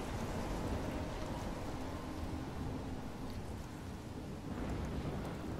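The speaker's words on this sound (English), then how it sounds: "Why is she out in the rain alone?" Steady heavy rain roars without a break in a stormy scene from the video game Life Is Strange, with a low rumble of thunder underneath. The rain stays loud and even throughout.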